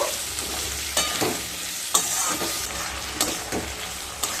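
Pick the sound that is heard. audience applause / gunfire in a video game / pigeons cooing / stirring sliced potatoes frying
stirring sliced potatoes frying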